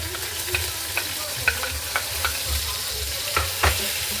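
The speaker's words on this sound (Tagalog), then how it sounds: "Ay, gigisa ka na yung sibuyas." Onions sauté in olive oil in a pan, a steady close sizzle punctuated by a regular series of scraping stirs from a utensil.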